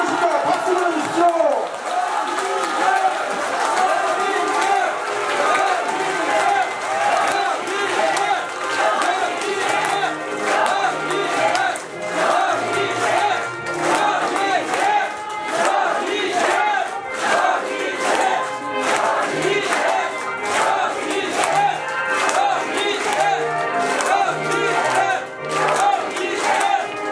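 Crowd at a book-launch talk concert cheering and shouting continuously as a guest speaker is welcomed, loud and dense, with whoops and voices over sustained clapping throughout.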